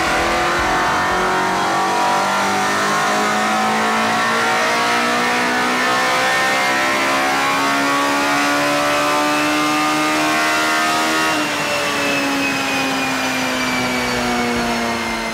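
A Honda S2000 engine roars steadily and loudly on a dyno, its pitch climbing smoothly as it revs up under load, then dipping briefly before rising again.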